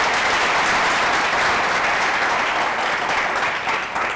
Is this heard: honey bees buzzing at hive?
no